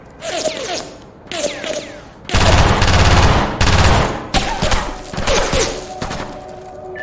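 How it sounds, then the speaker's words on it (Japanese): Gunfire in the SOCOM Fireteam Bravo 3 video game: loud bursts of automatic fire with sharp shots, broken by short pauses and whooshing effects. "発砲する。"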